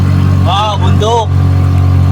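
A Bajaj Maxima Z three-wheeler drones loudly and steadily as it climbs the road up Mount Makiling, its engine hum constant and close while a voice speaks over it.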